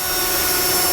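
A drill bores pilot holes up through a Ram truck bed cross member for a fifth wheel hitch install, a loud, steady, continuous whine and grind heard close and uninterrupted.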